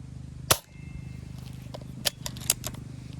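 A Hatsan 25 air pistol firing 0.28 g pellets at 10 metres from a rest: one sharp, loud crack near the start, followed by a few lighter clicks and snaps over a steady low hum.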